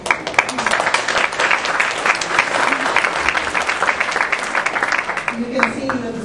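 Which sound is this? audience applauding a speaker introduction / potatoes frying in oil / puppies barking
audience applauding a speaker introduction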